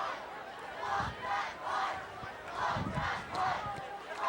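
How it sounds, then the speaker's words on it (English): Hometown high school football crowd at Logan vs Cottonwood, 2011, chanting and shouting in rhythmic surges as a punt is set up, calling for a block from the stands at moderate distance. "The hometown crowd calling for pressure to block the punt."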